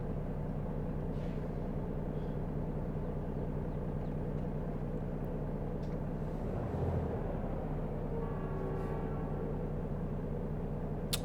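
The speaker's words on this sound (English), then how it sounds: "There goes a train." A slow train rolls past at about 25 miles an hour in American Truck Simulator with ProMods Canada, heard from a truck waiting at a stoplight. A steady, heavy low rumble runs throughout, and faint horn-like tones rise near the end, with no talking.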